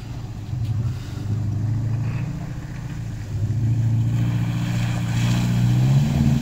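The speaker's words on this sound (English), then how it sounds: "You went through the wrong puddle." A Subaru driving through a puddle, its engine droning steadily with broad watery rushing and wash around it, growing slightly louder toward the end.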